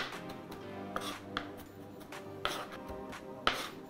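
Knife chopping garlic finely on a board, a series of sharp irregular taps with a few louder strikes, close and fairly quiet, with light background hum and no talking.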